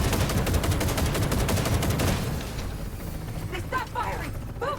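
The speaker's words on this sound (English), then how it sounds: "Oh, they're shooting me?" Rapid automatic gunfire in a video game, loud and continuous for about two seconds, then trailing off into scattered distant shots and a brief voice in the background.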